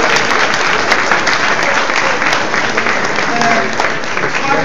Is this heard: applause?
yes